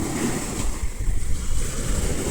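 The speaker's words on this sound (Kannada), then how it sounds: "ಅಲೆಗಳು ನೋಡಿ ಎಷ್ಟು ಜೋರು" Strong sea waves crash and wash along Velankanni beach, a steady, loud roar of surf mixed with gusty wind buffeting the microphone, continuous throughout with no voices.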